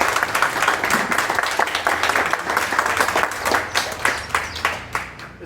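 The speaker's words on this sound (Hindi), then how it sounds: "तो आज सभी मोनपुर सिविल वासियों के लिए भी एक जोरदार ताली" An audience at an International Yoga Day celebration applauds, with dense steady clapping from a crowd that fades slightly toward the end.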